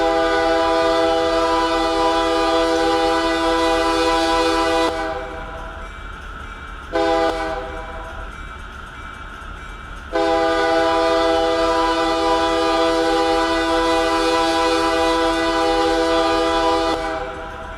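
A BNSF ES44DC locomotive in Run 8 Train Simulator sounds its horn approaching a grade crossing: long loud chord blasts, a short blast, then another long blast, over a continuous low rumble of the train.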